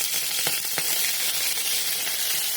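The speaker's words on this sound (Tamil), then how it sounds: "தாளித்து கொட்டுறதுக்காக கடுகு, 2 காஞ்ச மிளகாய்" Mustard seeds, two dried chillies and green chillies sizzle in hot oil for a mango pachadi tempering, giving a close, steady, bright hiss with a few sharper pops near the start.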